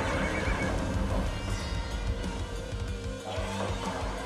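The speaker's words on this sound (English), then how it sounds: "This is what Noah would turn into. A fucking horse." A horse neighs and whinnies loudly in the video game Soul Hackers 2, with clip-clop hoof sounds and a dense game soundscape, no talking over it.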